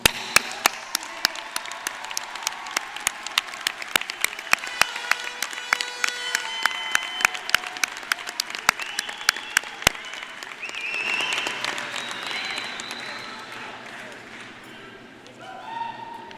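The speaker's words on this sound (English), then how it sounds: "Let us salute them with our applause." Commencement audience applauds steadily for graduates, dense clapping from a large crowd in a hall, holding for several seconds before thinning out and fading.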